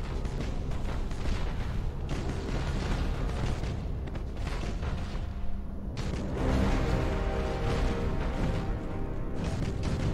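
Warships unleash their weapons in Battlefleet Gothic Armada, a dense, sustained barrage of booming blasts and rumbling fire that roars loudly and steadily throughout, intensifying toward the end.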